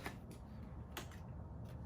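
Tarot cards are shuffled quietly at close range in three quick riffling bursts, each a short crisp flutter, over a soft background hiss.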